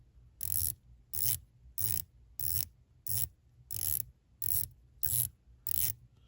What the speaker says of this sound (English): I'll do the bezel action quick here.